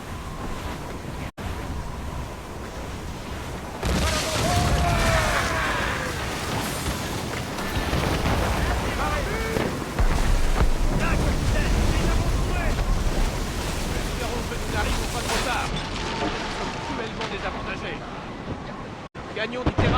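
Strong wind roars and gusts over crashing sea surf in Assassin's Creed Rogue Remastered, a broad, steady rush that swells and eases, with voices faintly mixed in.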